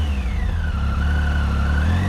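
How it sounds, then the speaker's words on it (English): A 2016 Triumph Speed Triple R motorcycle engine revving as the throttle is worked, a loud, close, throaty roar whose pitch climbs and then holds high. "listen to the audio and watch how quick it engages with the throttle"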